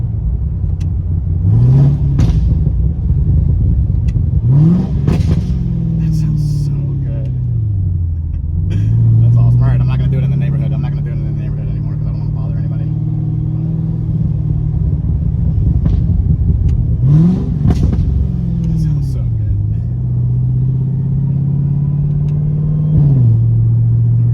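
A C7 Corvette with a burble exhaust tune revs repeatedly, its deep rumbling idle broken by sharp rising revs and crackling burbles on the overrun, loud and close over about twenty seconds.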